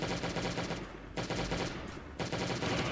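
Automatic gunfire in a zombie survival video game during a bunker event: three loud, close bursts of rapid shots separated by short pauses.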